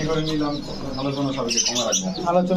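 Diamond pigeons coo softly in a busy Bangladeshi bird market, their low rolling calls mixed with a voice talking over them close by.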